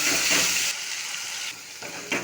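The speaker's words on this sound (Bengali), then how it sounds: "পেঁয়াজ আর আলু খুব ভালো করে ভেজে নেব" A loud, steady sizzle of onion and potato frying in a hot pan, with the hiss briefly dropping and swelling as it is stirred.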